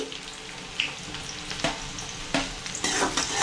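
Thick-cut onion stirred and fried in hot oil on a medium flame for a village-style mutton liver dish, a steady sizzle with scraping stir strokes and a few louder clacks.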